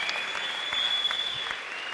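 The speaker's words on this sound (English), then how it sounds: "Yeah, standing ovation from the crowd for Brad Riddell." Crowd giving a standing ovation to a fighter after a bout, dense sustained applause with scattered claps and cheers, loud and continuous for the whole stretch.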